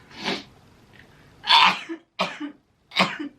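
Four short, explosive bursts, a sneeze followed by a few coughing or sneezing sounds, spaced with brief pauses, close and fairly loud.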